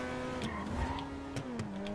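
A car drives in GTA 5 Online with a steady engine drone and a few short tire squeals or skid sounds, close and fairly loud, with no voices.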